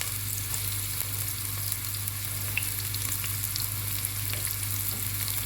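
Onions frying in oil in a pan for egg curry, a steady close sizzle with faint stirring ticks over a low background hum, no talk.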